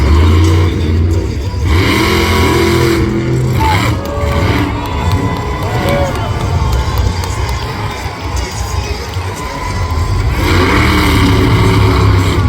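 A monster truck engine roars and revs hard during a nose wheelie at a speedway event, loud and sustained with rising and falling pitch, while a crowd cheers and shouts underneath.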